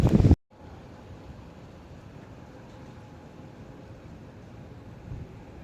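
Steady broadband wind rush buffeting the microphone, constant and fairly loud, after a brief loud burst at the start.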